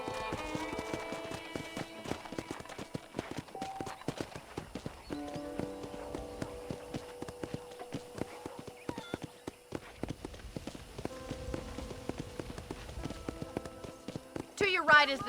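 Horse hooves clip-clop steadily in Red Dead Redemption, a rhythmic trot running throughout beneath game dialogue and light background music.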